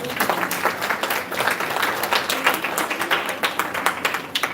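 A crowd applauds at an awards ceremony honoring Jamaican guidance counselors, a lively patter of many hands with distinct individual claps standing out, fairly loud and unbroken by voices.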